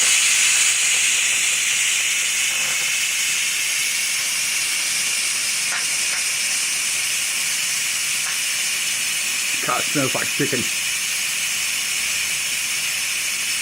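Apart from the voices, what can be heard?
electric pressure cooker steam release hissing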